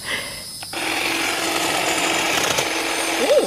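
A power trimmer cutting trees and bushes kicks in after a brief pause and runs as a loud, steady, gritty buzz close to the microphone.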